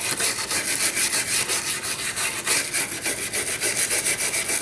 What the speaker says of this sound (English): I'm going to scratch all my contact points along this plastic edge